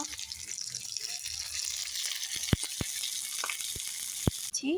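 Garlic and ginger paste sizzling in a hot pan, a steady frying hiss with a few sharp clicks of a utensil against the pan, moderately close.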